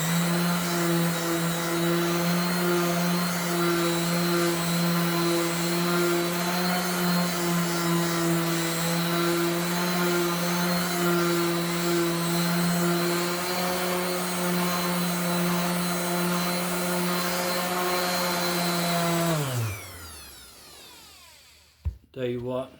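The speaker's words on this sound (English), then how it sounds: "So I'm going to bore you a little bit longer here with some more sanding, but it's got to be done." Power sander working on wooden crate parts with sandpaper of 80 to 220 grit, a steady loud motor whine with strong hum tones running for about twenty seconds before spinning down and stopping.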